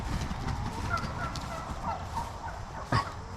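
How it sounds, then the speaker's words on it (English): Turkeys on a garden farm gobbling in scattered bursts, with one louder close call near the end over a steady low rumble of background noise. "Turkeys are funny."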